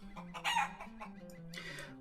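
A chicken in Lord of the Rings Online clucks and squawks in a few short bursts over a low steady background tone, close and fairly clear, with no talking.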